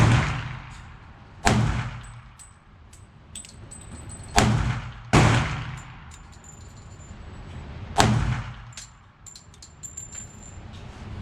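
Several sharp, loud gunshots from a Colt 1911 Bowling Pin Model pistol, four distinct reports spaced a few seconds apart with ringing decay and faint metallic clinks between them, no talk.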